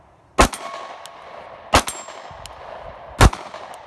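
Three sharp, loud gunshots from a Sig P365 pistol in live fire, spaced roughly a second and a half apart, each a hard crack with a short ringing tail and no talking between.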